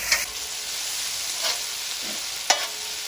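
Chilies frying in a pan for lamb keema balti, a steady close sizzle with occasional scrapes of stirring.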